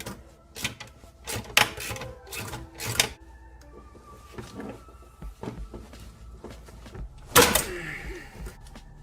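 A hose clamp is worked loose from the intercooler pipe of a Ford Mustang EcoBoost, producing sharp metallic clicks, snaps and ratcheting taps in irregular bursts, close and fairly loud, with one louder clatter near the end.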